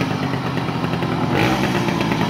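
Small moped engine running steadily close by, its buzzing drone rising slightly as it speeds up partway through, with no talking over it.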